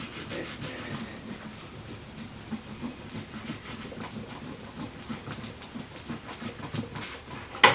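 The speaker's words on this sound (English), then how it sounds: "Use my burnishing tool and just burnish that down." A burnishing tool rubs transfer tape down onto Cricut Joy vinyl, giving a steady close scraping and rubbing texture with rapid repeated strokes and faint low rumble throughout.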